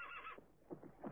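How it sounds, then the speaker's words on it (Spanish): Horse neighing from a classic 1960s Western television series, a brief faint whinny with shaky rising and falling calls, slightly muffled and alone. "También estaba el caballo Furia"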